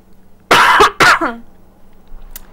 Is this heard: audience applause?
no